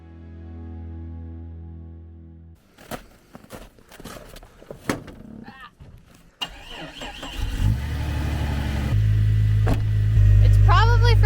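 A massive army truck's engine starting and revving on a snowy hill climb, rising from a low idle to a loud, sustained roar, with people talking in between.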